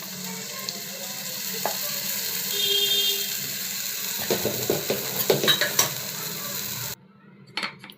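Boiled gongura leaves cooking down in a hot pan as a spoon stirs them, a soft sizzle under a run of clinking scrapes against the metal, then near silence at the end.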